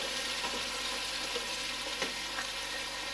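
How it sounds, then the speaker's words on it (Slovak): Potatoes and sausages sizzle in a pot with softened onion and leek as they are stirred, a steady dense frying hiss with occasional soft scrapes and no one speaking. "Tak, premiešam s tou cibulkou a pórikom."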